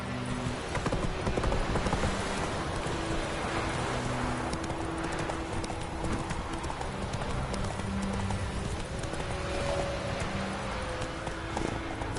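Roach, the horse in The Witcher, galloping with steady, rapid clip-clop hoofbeats that continue throughout, close and moderately loud over faint ambient game sound.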